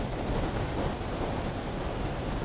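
A waterfall pours steadily at the Ayung River rafting start point in Bali, during the rainy season, a loud, continuous broadband rush of water with no voices.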